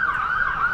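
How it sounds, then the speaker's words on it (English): An ambulance siren wails steadily near a cricket ground during a county championship match, its high wavering tone sustained and fairly prominent over faint background noise. "Ambulance coming up towards the ground, turning right, as you probably hear on"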